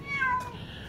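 A single brief meow comes from a cat in a drained pool, soft and near, with nothing else prominent around it.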